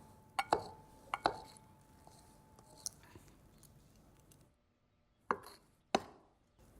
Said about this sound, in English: now all I'm going to do is cut this into the flour